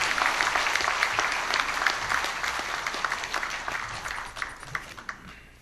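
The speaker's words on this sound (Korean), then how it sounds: "한국노총 이만큼 만들어줘서 고맙습니다라는 의미의 박수를 한번 부탁드립니다" Sustained applause from delegates filling a hall at the 2013 Korean labor union regular convention, dense and even clapping that holds for several seconds before thinning out toward the end.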